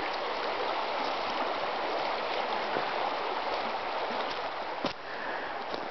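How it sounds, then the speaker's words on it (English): A woodland brook flowing steadily in early spring, a continuous close babbling rush of water with a few faint clicks, no voices. "we're going on the other side of the brook, which you can see there"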